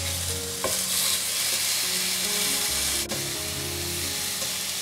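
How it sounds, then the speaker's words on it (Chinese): Pineapple pieces dry-frying in a pan after chicken cutlets were cooked, a steady close sizzle with stirring scrapes and a couple of sharp utensil knocks against the pan. "把菠萝放进来干煎一会儿，把菠萝一面煎香，"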